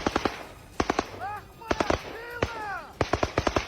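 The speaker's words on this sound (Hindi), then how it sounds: "आसपास मौजूद झाड़ियों पर ताबड़तोड़ गोलियां चलाते दिखाई दिए थे" Chechen fighters firing at bushes during the war in Ukraine, with loud bursts of rapid automatic gunfire repeating in short volleys and shouting voices between them.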